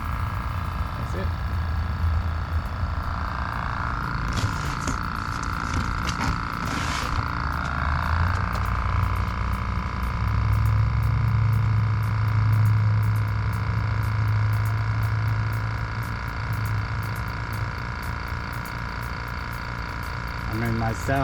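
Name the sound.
Fortress Ultra Quiet air compressor running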